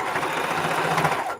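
A sewing machine runs steadily, stitching a scant seam on a scrappy quilted table runner, a continuous close whirring hum that stops abruptly at the end.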